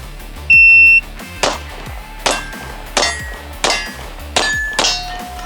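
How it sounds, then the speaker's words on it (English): A shot timer beeps once, then six rapid gunshots ring out one after another in an uneven rhythm, each with a sharp metallic clang from steel popper targets struck on a timed shooting run. "I'm gonna set the timer and you're gonna shoot 1, 2, 3, and these two poppers right here"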